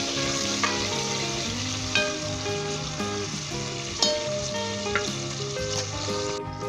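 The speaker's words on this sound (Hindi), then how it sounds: "इसे लाइट गोल्डन ब्राउन तक होने तक हम फ्राई करेंगे" Two medium chopped onions sizzle in hot oil while a spoon stirs and knocks against the pot every second or so, a close, steady crackle with no talking.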